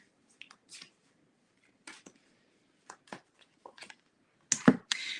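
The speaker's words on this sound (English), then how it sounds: "Need a lot of shuffling for you." Playing cards shuffled by hand during a tarot-style card reading, heard as several short, crisp riffling bursts separated by pauses, ending in a louder, closer flurry.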